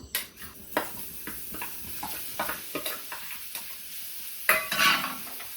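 Food drops into hot oil and sizzles quietly, with soft scraping stirs and light clinks of a utensil against the pan recurring irregularly, and a brief louder burst of crackling near the end.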